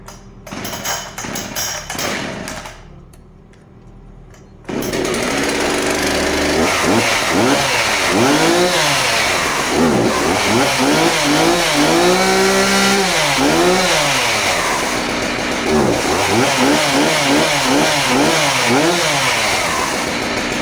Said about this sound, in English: I'm gonna fire this saw up, run the chain a little bit, and see if it loosens up on me so I can snug it back up again.